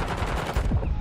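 Sniper fire in the Warzone video game: a loud burst of gunshot blasts with a booming, reverberant low end, close and dominant over the game's background noise, with no one talking over it.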